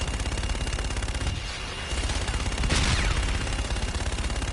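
Rapid automatic gunfire in the Call of Duty Infinite Warfare campaign, continuous fast bursts of shots at moderate level with a brief dip midway and a sharper blast near the end, no speech.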